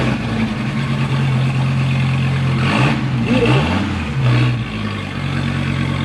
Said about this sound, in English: Beautiful cold start.